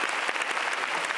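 A studio audience at a televised Christmas gala applauds, a dense, fast patter of many hands clapping steadily for a brief moment.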